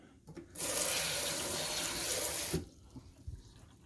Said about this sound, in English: now I'm going to shoot some water down in here